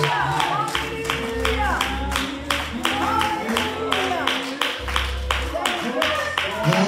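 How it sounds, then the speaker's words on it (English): A church congregation at a Sunday service claps hands in praise, steady rhythmic claps repeating throughout alongside a low music bed and crowd voices. "give God a hand clap of praise"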